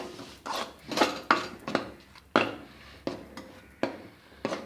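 Mawa peda mixture with sugar being stirred in a pan over medium heat, a spoon scraping and clinking against the metal in irregular strokes, close and fairly loud, with no talk.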